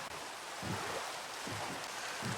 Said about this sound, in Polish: No nie no, deszcz.